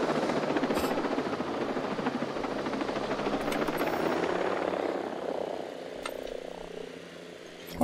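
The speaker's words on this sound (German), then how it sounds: "Oh, der Heli dampft ab." A helicopter in the military shooter game Ghost Recon Breakpoint thunders with steady rotor chop, loud at first and then slowly fading as it flies off, a few sharp clicks near the end.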